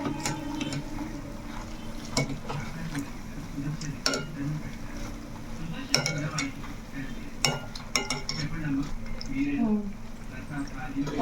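Egg bajji fritters frying in a pan while being flipped: a soft continuous sizzle with scattered clinks and taps of a utensil against the pan, with a voice speaking over it.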